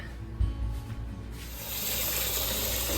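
Warm tap water at 120 degrees runs from a faucet to make bread machine pizza dough, starting as a soft trickle and swelling into a steady, close, hissing stream that continues to the end with no talk.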